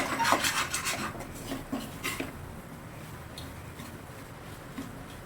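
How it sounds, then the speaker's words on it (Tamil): A spoon scrapes and stirs fish puttu in a pan, rough rasping strokes that are louder over the first two seconds, then fade to faint scraping against quiet background noise, with no talk. "அடி பிடிக்காமல் அப்பப்பையும் கிண்டி விட்டுக்கிட்டே இருக்கணும்"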